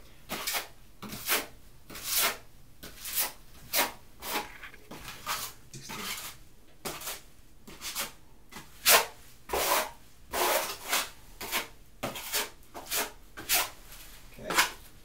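A trowel spreads Eco Stucco tightly across a wall in steady, repeated scraping strokes, close and fairly soft, with a rhythmic rasping pattern.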